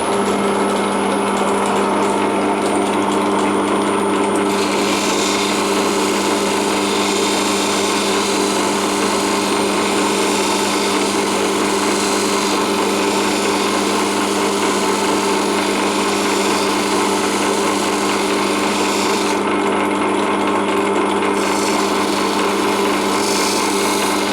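Crystal stone being polished against a spinning grinding wheel, a steady high whine with a gritty abrasive rasp that holds continuously. Close and even in loudness, with brief brighter hiss near the start and again later, no voices.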